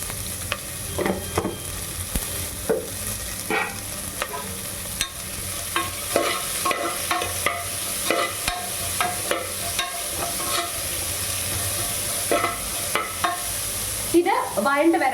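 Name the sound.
onion with salt being stirred and sautéed in pan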